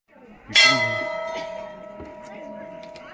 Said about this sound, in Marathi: घंटा मग कुठल्या मंदिरात आलोय?